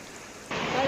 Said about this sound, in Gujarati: વરસાદથી ઠેબી નદીમાં ધસમસતા પાણીનો પ્રવાહ આવ્યો